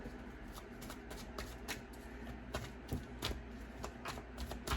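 A deck of cards is shuffled by hand for a card reading, a close run of quick riffling flutters and soft slaps repeating without a break.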